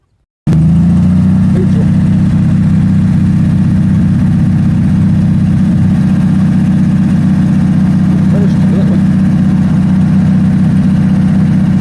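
A 1963 Chevy C10 fleetside pickup, left sitting for thirty years, idles a little high: a loud, steady, low rumbling drone that starts suddenly and runs unbroken, close to the microphone.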